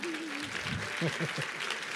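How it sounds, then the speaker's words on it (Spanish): A brief patter of audience applause at a talk rolls steadily throughout, with a voice and faint chuckles mixed in over the clapping. "vamos a dar un aplauso"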